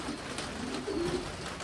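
Racing pigeons coo softly in a pigeon loft, a low murmuring call rising briefly near the middle over steady faint background noise.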